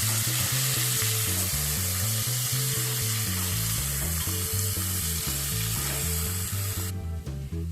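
Sliced onions frying in hot oil for chicken bhuna khichuri, a loud continuous sizzle and crackle close to the pan, steady throughout with no talk.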